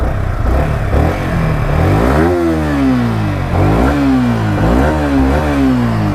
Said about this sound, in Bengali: সো ভাই বাইকটাকে একটু ভাই অন করে একটু স্টার্ট দিই, নতুন বাইক।